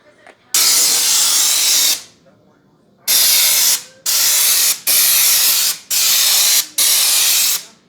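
Lizard Skin undercoating sprayed from a pressurised spray gun onto a 1968 Camaro, loud close hissing bursts: one long spray, a pause, then five shorter bursts in steady succession.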